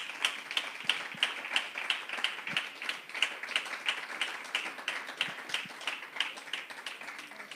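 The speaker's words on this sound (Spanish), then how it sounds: "Dale un aplauso al Señor" A church congregation claps together in a steady rhythmic beat, fairly faint and distant, with a few louder claps standing out.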